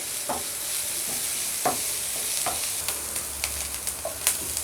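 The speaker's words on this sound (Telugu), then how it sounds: "కొంచెం మిరియాల పొడి, వేసుకొని బాగా కలుపుకోవాలి" Omelette egg mixture with pepper powder fries in a hot pan, giving a steady close sizzle broken by irregular scraping and tapping as a utensil stirs it; no voices.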